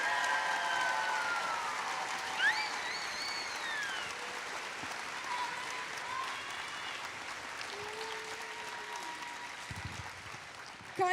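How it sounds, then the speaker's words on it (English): Audience applause for Connie at a district championship event, a soft, sustained patter of clapping from a seated crowd, fairly distant and even throughout, with a few scattered tones over it. "can we just give a big round of applause for Connie and just a big thank you?"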